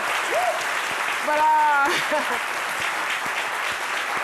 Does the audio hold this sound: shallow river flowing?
no